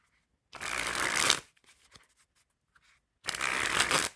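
Hello Kitty Bicycle playing cards being shuffled in two loud, close bursts of riffling, each about a second long, separated by a quiet gap with faint handling.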